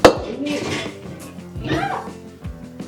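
A cooking pot is handled in a home kitchen while making a mushroom spinach pasta. Several sharp metallic clanks and knocks come close and fairly loud, with a busy background that may include voices.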